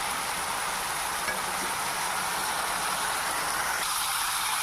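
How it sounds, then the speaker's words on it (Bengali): Tomato puree sautés with vegetables in a pan, giving a steady, even sizzle that runs throughout with no talking. "তো গাইস এখন টমেটোর পিউরিটা কিছুক্ষণ ভালো করে কষিয়ে নেবে সবজির সাথে।"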